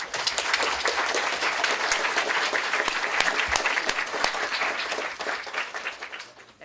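Sustained applause from a conference audience welcoming three guest speakers at a policy panel on immigration from Central America, dense steady clapping throughout that tapers slightly at the end.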